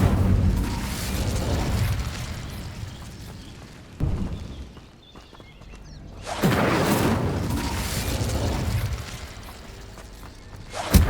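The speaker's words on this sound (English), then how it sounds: "Incendio." Incendio fire spell cast in Hogwarts Legacy on PS5 Pro, a rushing fiery whoosh and boom that swells, fades into a quieter lull, then flares up loudly again with crackling bursts.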